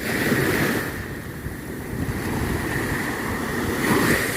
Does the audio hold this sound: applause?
no